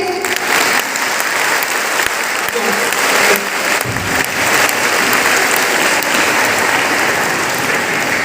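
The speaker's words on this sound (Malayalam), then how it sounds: "ഒന്ന് ഉഷാറായിട്ട് കൈയടിച്ചേ" Loud, sustained applause from a crowd at a kindergarten school fest in Kasaragod, Kerala, a dense wash of clapping that holds steady for several seconds, with a few voices faintly mixed in.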